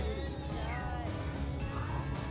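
A kitten meows repeatedly, with drawn-out wavering cries close by over a low rumbling background, and no talk.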